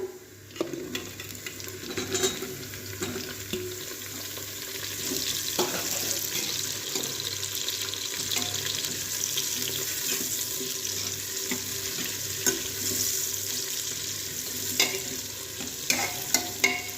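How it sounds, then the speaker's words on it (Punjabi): Onions sizzle steadily in a pan over already golden garlic and ginger for aloo matar, with a spatula stirring and scraping throughout and occasional louder clinks near the end; no voices. "ਹੁਣ ਅਸੀਂ ਪਿਆਜ਼ ਨੂੰ ਚੰਗੀ ਤਰ੍ਹਾਂ ਭੁੰਨ ਲਵਾਂਗੇ 골ਡਨ ਬ੍ਰਾਊਨ ਕਰ ਲਵਾਂਗੇ"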